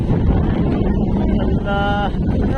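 A boat runs through rough, high sea waves with strong wind, a steady loud roar of wind and water buffeting the microphone throughout while people talk over it.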